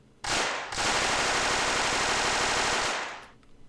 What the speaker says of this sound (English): He's armed with the Type 100 SMG, which fires pretty rapidly